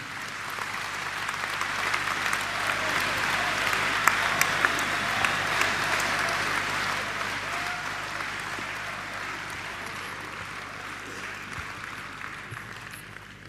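An audience at a global investors summit in Madhya Pradesh claps to welcome the Prime Minister, with dense, steady applause that swells and then slowly fades.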